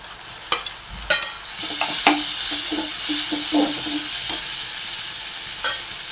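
Maggi noodles with schezwan chutney cook in a pan on a medium gas flame, a loud close sizzle with sharp scraping stirs and clattering spoon strokes at an uneven pace, no talking.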